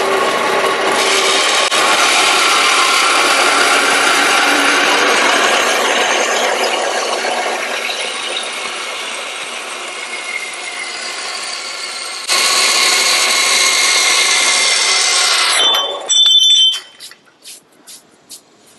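A bandsaw blade grinds steadily through the end of an aluminum rocker box cover, loud and continuous for about fifteen seconds, then the cut finishes and the blade winds down with a few scattered clicks.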